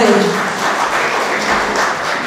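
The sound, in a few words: audience applause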